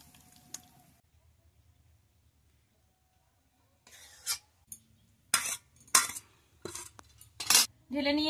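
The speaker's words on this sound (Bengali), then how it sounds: "দেখুন বন্ধুরা আমার ডিমের কারি রেডি হয়ে গেছে, এবার ঢেলে নেব।" Metal utensils scrape and clink against a pot and dishes while egg curry is poured and served. After a quiet start, the scrapes and clinks come as close, irregular bursts.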